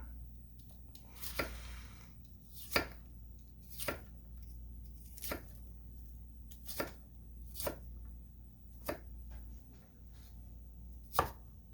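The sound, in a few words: chopping onion with a Bunka knife for pico de gallo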